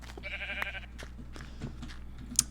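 A sheep bleats in a video game, a single wavering cry near the start over a low steady game hum, followed by scattered soft clicks and small effects.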